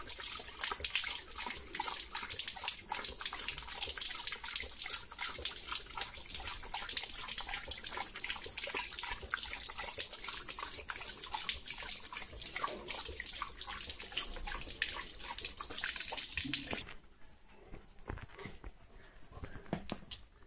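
Continuous hiss of water running from a tap, steady and fairly close, easing to a quieter trickle near the end with insects chirping faintly behind.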